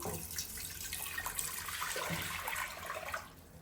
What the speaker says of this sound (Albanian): Marrim një tenxhere dhe në të shtojmë ujin.